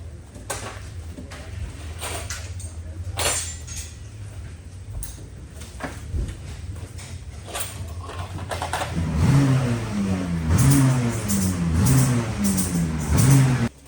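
A racing kart engine under test, a steady low idle drone with sharp clicks and knocks, then revving harder with rising, wavering pitch near the end.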